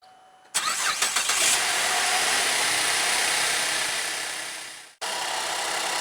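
Car engine cranking and catching after a jump start in a no-start diagnosis, a quick burst of starter whirring settling into a steady idle, which cuts out and then resumes.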